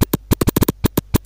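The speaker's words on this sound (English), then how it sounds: "I made a mapping for a single key scratch" DJ scratch sound triggered from a single computer key through a Virtual DJ mapping, about a dozen quick, loud scratch bursts in a choppy, uneven rhythm with short silences between them.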